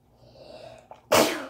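A single loud, sharp sneeze bursts out after a brief quiet inhale, close and sudden.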